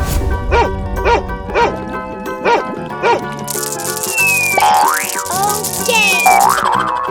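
A cartoon dog in a 3D animal slide video game yips in a quick series of bouncy, springy barks, followed by playful game music and whistling effects.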